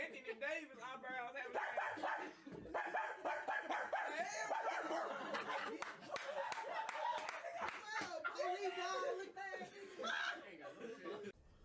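A man playfully imitates a dog with loud barks and yips mixed into excited talk, chuckles and clapping, all close and busy.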